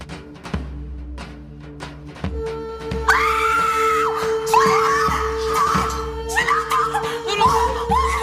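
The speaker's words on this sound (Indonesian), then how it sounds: "Ia pun berteriak histeris." A woman screams hysterically in a drawn-out, wavering cry that rises and breaks repeatedly, loud and close, over a low background hum with faint thumps.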